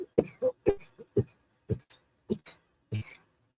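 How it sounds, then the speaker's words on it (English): A person coughs repeatedly after smoking, a series of roughly eight short, harsh bursts spaced unevenly across a few seconds, close to the microphone with quiet gaps between them. "I gotta stop smoking that. I'm coughing bad."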